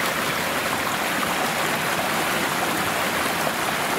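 A river rushes steadily at the point where it heads off underground, a constant broadband wash of flowing water, close and loud with no breaks.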